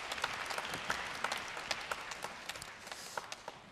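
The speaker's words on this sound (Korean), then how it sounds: "여한종 선생님 박수로 맞아 주시면 대단히 감사하겠습니다" A hall audience at an admissions briefing claps to welcome a lecturer, moderately distant applause with individual hand claps standing out, thinning slightly toward the end.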